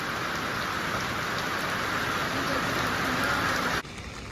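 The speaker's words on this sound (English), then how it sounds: "the rain has really started coming down here in Mount Airy out of nowhere. It started pouring." Heavy rain pours down in Mount Airy, North Carolina, a dense, steady hiss of drops on surfaces that stays loud throughout and then suddenly drops away near the end.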